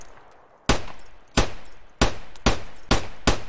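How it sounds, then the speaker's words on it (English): Five sharp gunshots from a shooter game, Escape from Tarkov, crack out at irregular intervals with a short decaying tail after each, loud and fairly close against a quiet background. "Oh, shots."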